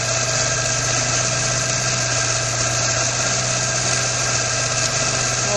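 A 1994 Geo Metro engine idles with retarded timing, giving a steady, loud, close mechanical drone with a constant low hum and even vibration, no voices.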